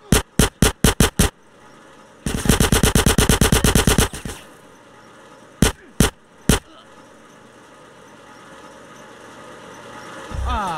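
Gunfire in GTA San Andreas inside Caligula's palace: a few sharp single shots, then a long rapid automatic burst, more isolated shots, and a low engine-like hum building toward the end.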